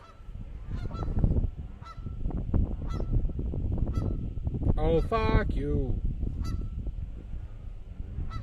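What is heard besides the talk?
geese honking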